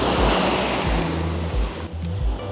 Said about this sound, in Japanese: 今ちょうど波が立ってて、